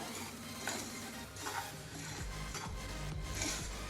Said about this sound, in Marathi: आता पॅनमध्ये आपण वरई आणि साबुदाणा हे पाच ते दहा मिनटं भाजून घेऊया